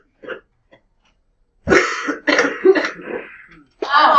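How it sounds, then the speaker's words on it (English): A boy in a middle school classroom coughing and clearing his throat, a few faint short hacks followed by a louder burst of harsh, rasping coughs, close by. "I get it. I cough so bad."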